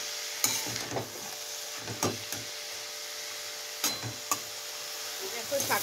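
Greens cook in a pan with an onion, dried chilli and garlic tempering, giving a steady low sizzle with a few sharp stirring scrapes and clacks close by. No one speaks.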